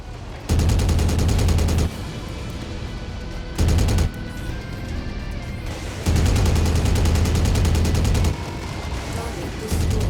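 Machine guns in the MechWarrior video game fire in long, loud sustained bursts, two main stretches separated by a short burst and quieter gaps of battle noise.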